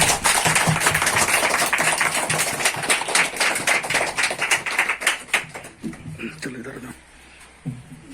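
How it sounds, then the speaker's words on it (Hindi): A crowd at a clothes distribution event applauds to welcome a guest, a dense, loud patter of many hands that thins out and fades near the end, with voices mixed in. "हम लोग ताली बजाकर हम लोग भाई को स्वागत करते हैं"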